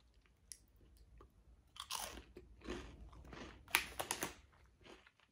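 Crunchy vegan spelt cocoa cookies, Swiss Delice Thins, bitten and chewed close up: a series of crisp, irregular crunches and crackles, quiet between bites, with no talking.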